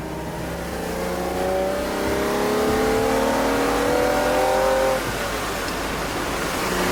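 A Ferrari 330 GTC engine revs steadily upward through its range for several seconds, loud and close, then eases off.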